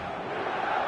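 Stadium crowd at San Siro in eFootball 2025, a dense steady roar of many voices cheering throughout a brief moment.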